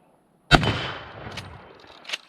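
A single sharp, loud gunshot from a large-frame Colt Lightning rifle cracks at close range and rings out with a fading echo, followed by a faint metallic clink.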